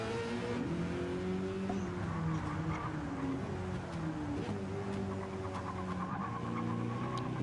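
A GT race car in a racing video game revs and shifts through gears, its engine note climbing and dropping repeatedly, loud and continuous, with other cars faintly passing in the background.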